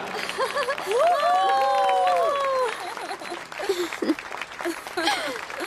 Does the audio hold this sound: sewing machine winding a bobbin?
no